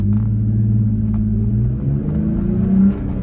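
A Toyota Tacoma pickup engine rumbles low and steady, then the revs climb as it pulls away from a stop, a deep throaty drone close by.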